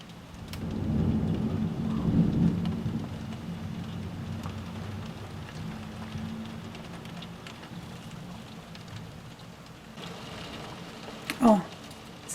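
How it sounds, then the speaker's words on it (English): Heavy rain pours during a Moscow summer thunderstorm, a dense steady hiss with deep thunder rolling loudly early on, then fading under the downpour, and a short sharp knock near the end. "Oh, the heavy rain began."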